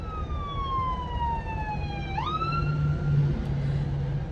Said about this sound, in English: there's a fire or an ambulance coming past me.